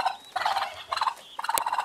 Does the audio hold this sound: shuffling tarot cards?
no